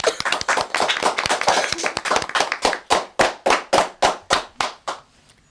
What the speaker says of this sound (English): give yourselves and Miss McLaughlin a big round of applause